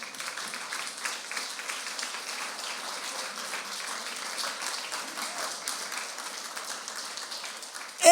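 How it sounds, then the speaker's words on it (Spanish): Scattered applause ripples through a church congregation, fairly faint and diffuse as if heard from across the hall, a soft patter of many hands that carries on evenly before a brief louder knock at the end. "bueno, aplaude, si quiere aplaudir"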